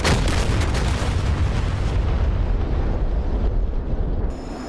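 Unguided bombs exploding in the DCS flight simulator game on a JF-17 jet, a loud continuous deep rumbling roar of blasts that fills the clip and slowly tapers off near the end.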